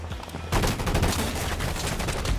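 Gunfire in the video game Combat Champions breaks out suddenly after a quiet half second, a dense run of rapid automatic shots continuing loud and close to the end.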